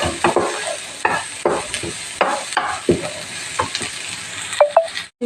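Crushed ginger, green chili and garlic paste sautéing over medium flame, loud close sizzling with repeated spatula scrapes and stirring strokes through the pan, no talking.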